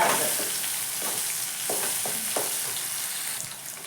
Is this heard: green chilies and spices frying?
yes